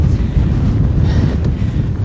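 Strong nor'easter wind at 6,000 feet roars and buffets the microphone continuously, a loud, low, turbulent rush with no voices.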